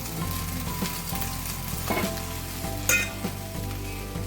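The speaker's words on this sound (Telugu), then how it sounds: "మ్యాంగో ఉంది కదా, అది కొద్దిగా పచ్చివాసన వరకు వేపుకుందాం. ఇప్పుడు ఈ అన్నాన్ని వేసుకొని అన్నానికి పట్టించేసుకుందాం" Raw mango pieces frying in a pan for mango pulihora as cooked rice is stirred in: a steady close sizzle with a low hum underneath and scattered spoon scrapes, one louder scrape near the end, no talking.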